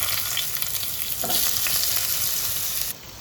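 Vegetables dropped into hot oil set off a steady, dense sizzle and crackle of frying that continues evenly, then cuts away abruptly near the end.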